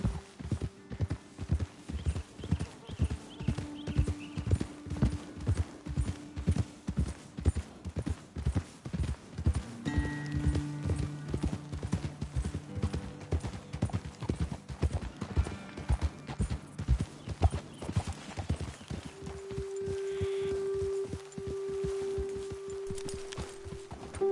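Steady clip-clop of horse hooves at a walking pace in the video game Red Dead Redemption 2, close and rhythmic, with brief musical tones and faint ambience underneath.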